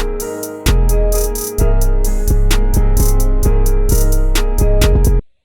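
A homemade hip-hop beat from 2021 plays with a punchy kick, snare hits and a sustained synth layer, running loud and steady after a brief quiet intro before stopping abruptly near the end.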